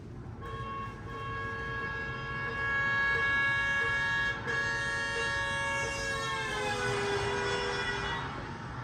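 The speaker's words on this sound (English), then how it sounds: "something called the Doppler effect" A sustained siren-like horn tone holds steady as it approaches, then swoops down in pitch as it passes by, growing louder before fading.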